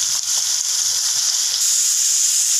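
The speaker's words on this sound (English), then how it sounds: "Now the oil that got heated, add the kurkuri bhendi to it." Kurkuri bhendi, crispy coated okra, dropped into hot oil, a loud close steady sizzle and bubbling hiss that holds through the whole short clip with no voices.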